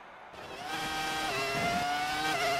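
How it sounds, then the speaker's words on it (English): A Ferrari F2004 Formula 1 engine at Monza in the F1 2019 video game rises out of near silence into a loud, high, steadily climbing whine that holds to the end. "Just listen to the sound of that Ferrari."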